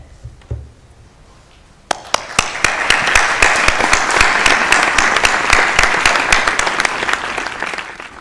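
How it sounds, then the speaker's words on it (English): Graduating students at a university ceremony break into loud, sustained applause after a brief quiet start, dense clapping from a large crowd filling the hall for several seconds. "give a round of applause to all of those people who've helped to support you along this journey to today"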